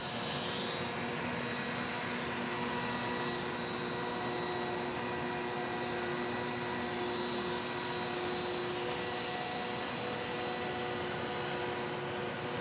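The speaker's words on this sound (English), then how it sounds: "if you have a trusty motor like this, you move it to the next hole, which operates the cutters" Motorized pasta machine driving its cutters to make tagliatelle, a steady, even mechanical hum and whine that holds without change throughout, with no voices.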